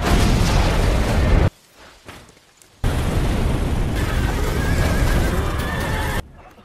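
A film scene of cowboys exploding as they pass a flower garden, with loud roaring blasts interrupted by a short quiet gap. Horses neigh and hooves clatter amid the booming noise.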